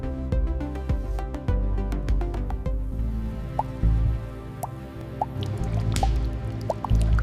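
Liquid chocolate filling molds on a factory line, with repeated drips and wet squishing plops over a steady machinery drone, close and continuous.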